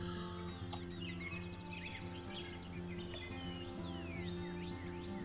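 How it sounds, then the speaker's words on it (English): Loud, busy video game birdsong with many overlapping chirps and tweets over a steady low hum, continuous throughout. "Some pretty loud birds."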